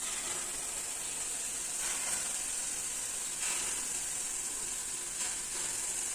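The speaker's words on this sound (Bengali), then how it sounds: "তেলটা গরম হয়ে যাওয়ার পরে এই দেখো দেখো এবার ছাড়ছি বড়াগুলো" Lentil fritters made from kalai dal batter frying in hot oil over a lowered gas flame, giving a steady close sizzle with a few brief surges as more batter drops in, no voices.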